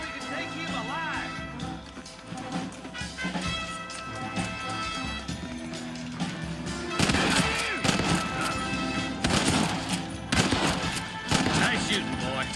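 Gunshots in a Red Dead Redemption shootout, sharp cracks scattered over a music bed that cluster into louder, heavier volleys in the second half, with voices speaking between shots.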